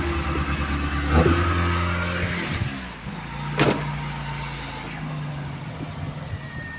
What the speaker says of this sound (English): Plug the map sensor back in. Idle increases a lot, but the smoke goes away.